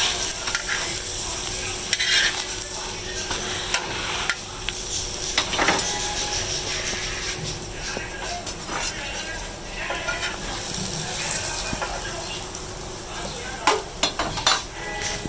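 Parathas fry and sizzle on a hot gas stove, with stirring and the scrape and clink of utensils against the pan over a continuous crackling hiss.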